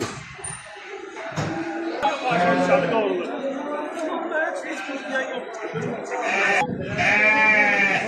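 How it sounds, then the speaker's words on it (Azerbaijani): Sani goats bleating at a busy livestock market in Mashtaga, Azerbaijan: repeated wavering cries, some close and loud, mixed with crowd chatter and people talking nearby. "Ne keçilərdi bu cins? Sani keçilərdi."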